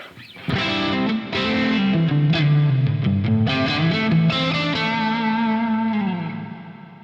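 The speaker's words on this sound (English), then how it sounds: "First one is a reverb." Distorted electric guitar chords through a TC Electronic Plethora X1 pedal's reverb ring out with a lush, spacious reverb tail, notes overlapping and sustaining before fading at the end.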